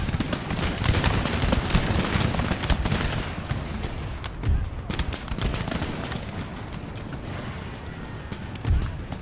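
Massed musket volleys crackle in a Napoleonic-era battle in Empire: Total War, dense overlapping rolling gunfire with sharper bursts standing out, continuous across the whole stretch.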